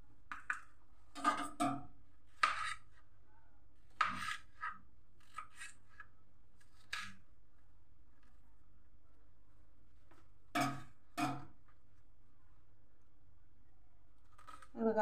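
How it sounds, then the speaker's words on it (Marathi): Capsicum being sliced into square pieces with a knife on a board for a veg tandoori dish, a handful of crisp cuts and taps in short clusters separated by quiet gaps, close. "शिमला मिरची कापूया, आपले चौकोन तुकडे करायचे आहेत।"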